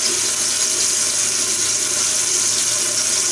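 Water runs steadily from a sink tap while a face is washed before a wet shave, a continuous close hiss and splash with no talking.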